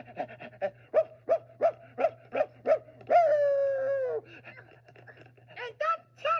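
A person imitates a dog with a string of about eight short, evenly spaced barks, then a long drawn-out whine, followed by a few more yips, fairly close and clear.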